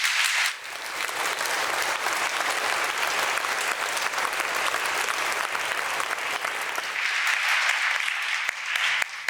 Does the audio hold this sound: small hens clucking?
no